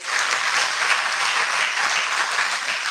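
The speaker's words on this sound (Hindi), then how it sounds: "तो फिर तालियां बजाइए।" An audience at a stress-free living revision programme breaks into steady, dense clapping, loud and continuous throughout with no pause.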